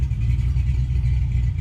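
A Ford Mustang foxbody LX engine runs close by, a steady low rumble with a slightly uneven, lumpy pulse and faint mechanical clatter.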